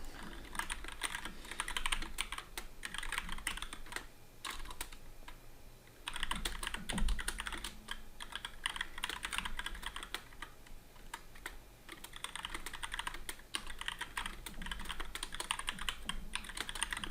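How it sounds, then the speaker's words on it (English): Fast, close keyboard typing clatters in bursts with brief pauses between runs of keystrokes, fairly quiet and with no voices. "you're going to have to hear me typing"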